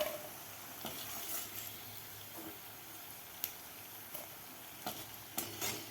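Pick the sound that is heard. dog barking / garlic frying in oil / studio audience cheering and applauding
garlic frying in oil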